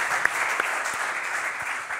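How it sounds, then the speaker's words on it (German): A studio audience at a German sports talk show applauds a guest named Chris, with steady, dense clapping throughout and no speech over it. "Großen Applaus für Chris"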